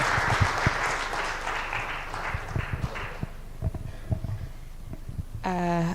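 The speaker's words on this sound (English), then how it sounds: "help me welcome Mary with a round of applause, please" An audience at the East Africa Waste is Wealth conference claps steadily for about three seconds before the applause thins out, followed by a short voice near the end.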